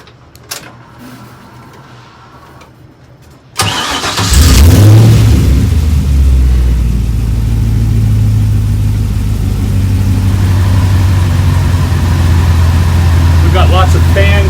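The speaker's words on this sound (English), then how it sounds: "let's go ahead and fire up the car" A Chevrolet LS3 V8 with an e-rod setup fires up on a dyno indoors, its start a sudden loud burst, then a steady rumbling idle with occasional revs, close and loud with fans running.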